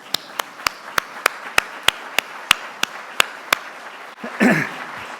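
Sparse, evenly paced claps, roughly three a second, ring out crisply in a quiet hall at a state RISE conference session, then stop and give way to a brief rustle.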